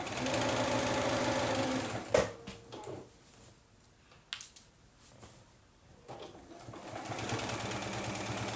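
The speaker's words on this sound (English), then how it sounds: "I do want to back tack this only because I don't want it coming loose." A sewing machine back-tacks a tote bag seam, running in a steady whir, stopping with a few clicks and knocks, then starting again close by.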